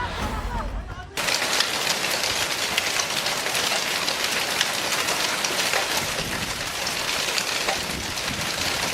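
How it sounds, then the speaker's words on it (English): Large hailstones pour down in a hailstorm, a dense, loud, continuous clatter of ice striking surfaces that starts abruptly after a moment of quieter ambience and keeps up steadily throughout. "It's tough to impress people with hailstorms, since almost everyone has seen them before, but not many have seen hail this large."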